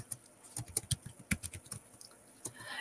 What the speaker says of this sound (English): So now I'm just typing out names onto the thing.